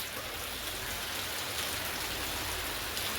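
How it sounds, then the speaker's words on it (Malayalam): Steady rain falls continuously, a dense even hiss of drops with no voices and no breaks. "പിന്നെ എന്താ ഈ കാണുന്ന മഴയല്ലേ"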